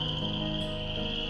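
Nighttime chorus of frogs croaking on a rural off-grid homestead in warm weather, a steady dense drone of calls holding constant throughout, with no talking.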